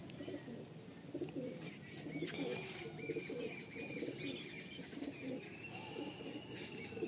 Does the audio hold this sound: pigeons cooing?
yes